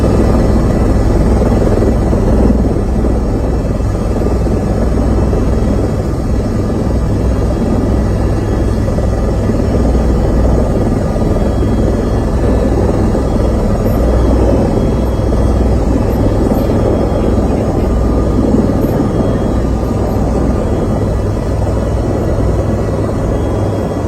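A helicopter flies steadily and loudly for the whole stretch, a dense continuous rotor and engine roar with no pauses and no voices.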